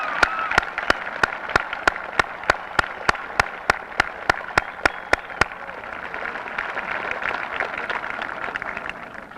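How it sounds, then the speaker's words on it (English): An audience applauds a high school graduating class at a 1988 commencement. A single loud, evenly spaced clap near the microphone beats over softer crowd clapping for about five seconds, then the broad applause continues alone. "So a round of applause for this group."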